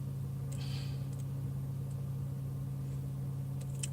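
Inside a car driving toward an expressway, a low, steady engine and road hum drones quietly throughout, with a few faint clicks and no one speaking.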